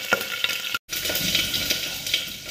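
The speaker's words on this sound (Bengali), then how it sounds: "প্রেশার কুকারে তোমার গোটা জিরে আর হচ্ছে তেজপাতা ফোড়নে দিয়ে দিলাম" Whole cumin seeds and bay leaves sizzle in hot oil inside a pressure cooker, a steady close crackle with light stirring clinks, briefly cut off once, with no talk.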